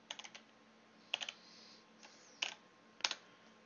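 Keys clatter on a computer keyboard in short bursts of quick taps separated by pauses, fairly close but not loud, with a low steady hum beneath and no talk.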